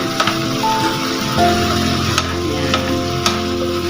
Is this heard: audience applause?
no